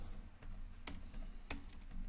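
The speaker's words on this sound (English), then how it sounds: "I'm looking at the keyboard because I have trouble typing without looking at it." Typing on a computer keyboard, steady soft clicking of keys with two sharper, louder key strikes standing out, close by and with no talk over it.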